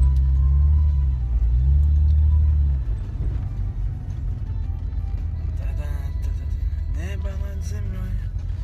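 A car heads into the mountains near Khasavyurt on a rough road, a heavy low rumble and shaking drone filling the cabin, with someone talking over it in the later part.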